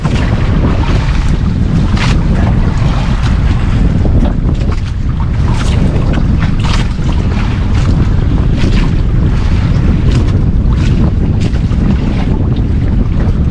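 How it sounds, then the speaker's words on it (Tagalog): Waves and wind at sea heard from a small fishing boat in rough, rising swells, a loud constant roar of wind buffeting the microphone over rushing, splashing water, close and unbroken throughout with no talk. "lalong lumalakas yung alon mga idol oh."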